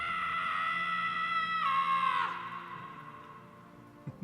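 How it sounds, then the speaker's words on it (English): A video game character from Guardians of the Galaxy lets out a loud, sustained, strained cry of pain that swells, breaks off after about two seconds, and fades to a quiet background. "Scream if you need to dull the pain."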